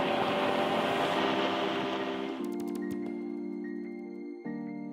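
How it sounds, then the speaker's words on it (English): Twin-engine Air Cam aircraft with its left engine throttling up, a steady loud droning hum that steps up in pitch and intensity as the throttle opens, with wind rush and tonal engine harmonics close by. "we'll throttle up on the left engine"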